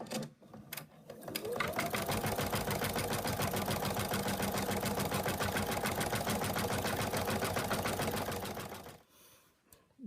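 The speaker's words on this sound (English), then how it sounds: "it's going to first do a line, a placement line, where we're going to put the fabric." An embroidery machine stitches a fabric placement line, a steady rapid mechanical chatter that starts after about a second, runs loud and even for roughly seven seconds, then stops near the end.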